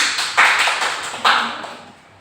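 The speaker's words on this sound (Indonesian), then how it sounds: "Mari kita beri tepuk tangan" Two short bursts of clapping from a classroom of children, each sharp onset fading quickly, with a lighter tap near the end and quiet in between.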